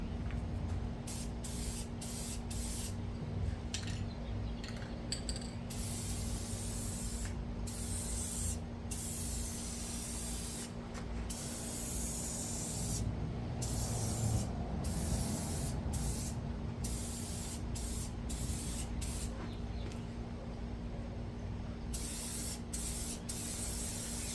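Spray paint, not Kubota orange, hisses onto a rebuilt bent steel bucket from a Kubota L2501 tractor in long steady bursts broken by brief pauses, close and continuous, with no talking.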